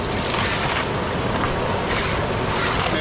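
Strong wind blows outdoors at a rainy gold-prospecting site, a continuous broadband rush with gusty buffeting on the microphone and no voices.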